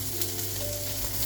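Caramelized onion frying in butter with thyme in a pan, a steady close sizzle and crackle with a faint tonal hum beneath, with no talking.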